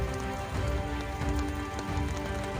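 Steady rain in the Yamuna valley, a dense continuous patter of drops hissing on surfaces, even and moderately loud throughout with no voices.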